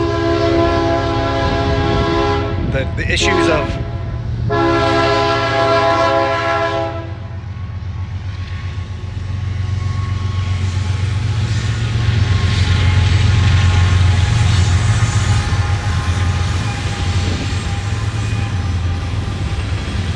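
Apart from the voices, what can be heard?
passing train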